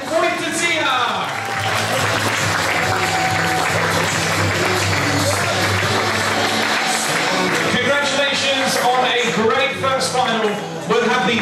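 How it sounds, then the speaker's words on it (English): Audience applause at an ISSF Junior Cup shooting final in Suhl, Germany, for the silver medalist, a sustained mass of clapping with some cheering, steady and loud throughout. "give a round of applause to your silver medalist for Poland"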